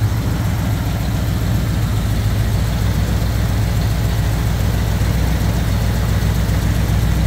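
Loud, close idle of a 390 V8 in a 1968 Ford Torino GT pace car convertible, a constant deep exhaust rumble with a steady throb from start to finish, no voices.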